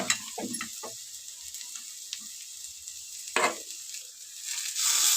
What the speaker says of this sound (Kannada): ನಾನು ಇವಾಗ ಇಲ್ಲಿ ಹುಣಸೆಹಣ್ಣಿನ ರಸನ ಹಾಕ್ತೀನಿ